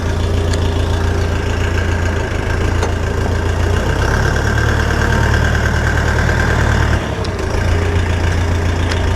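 Dong Feng 404DHL mini tractor engine running loud and close, a steady diesel rumble with a brief dip and clunk as gears are shifted, no voices over it.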